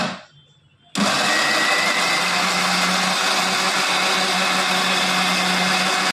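A mixer grinder whirs loudly and steadily after a short quiet start, grinding ginger, tomato, garlic and onion into a paste, with the motor roaring continuously close by.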